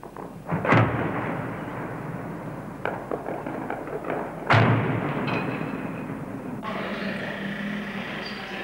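Two heavy explosions boom in the distance over Amman during the 1970 battle, a few seconds apart, each followed by a rumbling tail, with fainter crackling in between.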